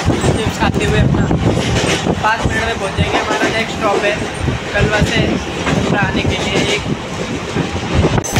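A Mumbai-area passenger train heading toward Kalwa, rumbling and clattering over the rails up close with a rhythmic clickety-clack, heard under people talking nearby.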